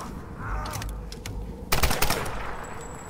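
Gunfire rings out while shooting enemies in the Tomb Raider video game, rapid bursts of shots over a low background rumble, louder and denser in the second half, with no talk.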